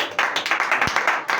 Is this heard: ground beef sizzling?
no